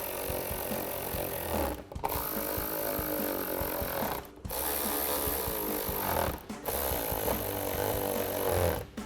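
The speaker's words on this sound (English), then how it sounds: "Take your 7mm socket and tighten those down." A 7mm socket wrench ratcheting screws tight on the reverse light of a 2024-2025 Mustang GT, heard as three steady, close bursts of rapid clicking separated by short pauses.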